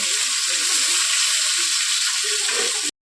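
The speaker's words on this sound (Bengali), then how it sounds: "আলুটাকে ভালো করে ভেজে নেব।" Potatoes frying in a pan with turmeric and salt, a dense, even sizzle that holds steady for about three seconds and then cuts off abruptly.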